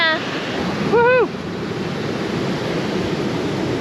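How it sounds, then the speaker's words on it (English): Ocean surf from a hurricane swell rolls in a steady, loud wash of breaking waves with wind buffeting the microphone, and a brief rising whoop of a voice cuts in near the start. "this is a bit of the swell that's come from Hurricane Fiona."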